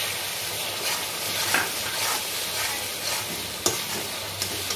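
Tomato puree goes into a pan of spice paste made from coriander, cumin and chilli, giving a steady close sizzle along with scraping and stirring as it fries, and a few sharp clinks of the utensil.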